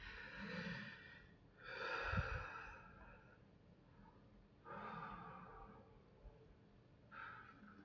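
Slow, deep breaths come close and quiet, each long inhale and exhale drawn out with pauses between, calm and soft with no talking.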